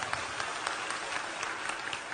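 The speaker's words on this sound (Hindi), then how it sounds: "इन्हें ताली बजा के धन्यवाद दो।" An audience at Morari Bapu's spiritual discourse claps in thanks, a steady wash of many hands clapping evenly throughout.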